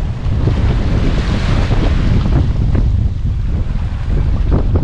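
Strong wind pounds the microphone at a rocky fishing shore in Sonora, Mexico, a loud, steady low roar with surf-like surges throughout and no talking.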